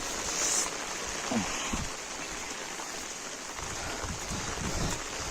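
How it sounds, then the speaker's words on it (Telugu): Heavy rain pours at a waterfall at Sri Amara Lingeshwara Swamy Kona near Tirupati as a dense, constant hiss of falling water, fairly faint and even, with no clear voices. "వాన భయంకరంగా పడుతూ ఉంది"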